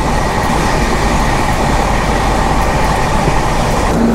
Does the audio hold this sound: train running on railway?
yes